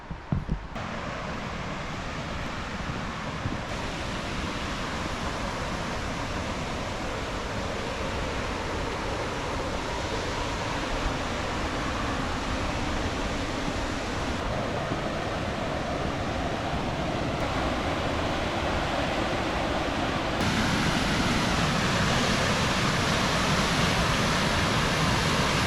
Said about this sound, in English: I can hear the waterfalls getting close.